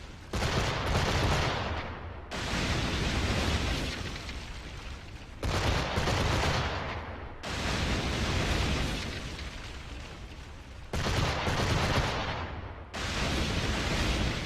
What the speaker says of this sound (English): the frigates fire first, because they're smaller, faster ships